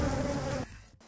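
Many bees buzz loudly and steadily in a close, dense drone for just over half a second, then cut off abruptly, leaving quiet, faint background noise.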